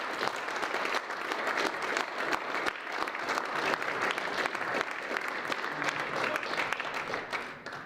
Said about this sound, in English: round of applause for the JV team 2020.